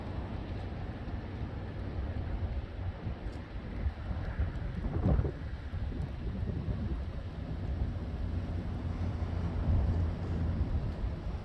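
A thunderstorm in San Antonio, Texas. Steady rain and low rumbling thunder roll on continuously, with a louder swell of thunder near the middle. No voices are heard.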